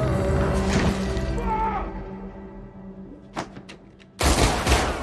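Gunfire in the 2021 action film Nobody: sharp shots amid a tense, fading score, a couple of quick snaps in the quieter middle, then a loud burst of firing at the end.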